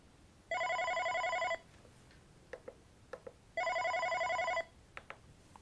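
Siemens OpenScape 40 office desk phone ringing with an incoming call: two identical electronic ring bursts about a second long each, separated by a pause with a few soft clicks.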